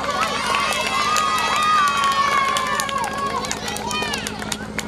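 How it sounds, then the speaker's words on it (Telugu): An audience at a school anniversary celebration claps for the school staff, a steady mass of hand claps mixed with cheering and high children's shouts, loud and close throughout. "క్లాప్స్ కొడతారండి మా స్టాఫ్కి"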